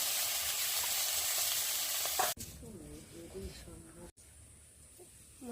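Small mixed fish fry in hot oil with a loud, dense sizzle for a couple of seconds, then a voice talks over a quieter background.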